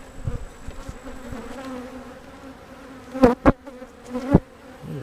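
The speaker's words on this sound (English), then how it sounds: "What is that bee doing? That bee got on that smoker and burned himself." Honeybees buzz steadily around an open hive during a split inspection, a close, continuous drone broken by a few louder passes as individual bees fly right by.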